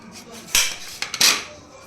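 Knife chopping raw green mango into pieces on a board for pickle, giving a few sharp clattering cuts close by, two louder clusters with a brief tap between, and no talk.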